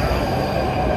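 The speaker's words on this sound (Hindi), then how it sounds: "तो भाई अपनी मेट्रो आ गई" A metro train pulls in as a steady, close, broadband rumble of rolling wheels and hum, lasting only a moment with no voices.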